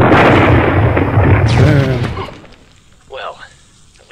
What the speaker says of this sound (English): Perhaps you realize that York's equipment was charged to detonate